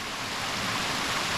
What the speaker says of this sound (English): There was this neat little waterfall